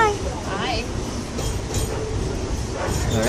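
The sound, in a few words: steam train riding on the tracks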